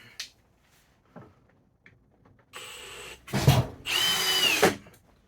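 A power drill whirs in short bursts while assembling a wooden Adirondack chair, briefly revving then running steadily at high pitch for a second or so, close by, after faint handling clicks.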